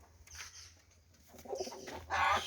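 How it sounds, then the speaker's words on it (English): A fantail pigeon coos close by in a few soft, throaty rising phrases, building to a louder, fuller coo at the end over a quiet low hum. "Beautiful pigeon."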